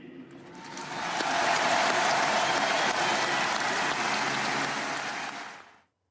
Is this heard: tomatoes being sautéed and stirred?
no